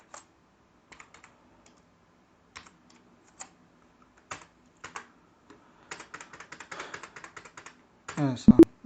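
Computer keyboard typing while entering a capital account journal entry in Tally ERP 9 accounting software: scattered single keystrokes at first, then a denser run of rapid clicking, with a short louder burst at the end.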